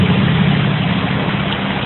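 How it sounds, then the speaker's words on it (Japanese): Cars pass on a road overhead, heard from below as a loud, steady low rumble and engine drone that fills the space without a break. "上に車を通ってるんで、バイクとか、そういった音が結構聞こえますね。"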